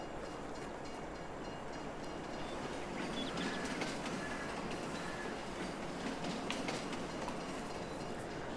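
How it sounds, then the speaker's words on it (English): An approaching train arrives at a mountain station in Farming Simulator 22 on the Erlengrat map, a steady rumble of rolling wagons under a busy ambient bed with birds chirping, building gradually over several seconds. "I hear the train coming though."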